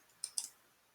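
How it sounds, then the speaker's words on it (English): Two quick, crisp clicks of a computer mouse, close and distinct against a quiet background. "I'm going to click Camera."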